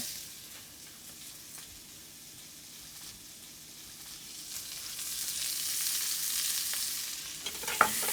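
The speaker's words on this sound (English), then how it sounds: "So first, add the shallots. And this bacon fat is gonna infuse the filling with even more bacony flavor." Shallots fry in bacon fat in a pan with a steady sizzle that swells louder toward the end. A brief scrape of stirring is heard near the close.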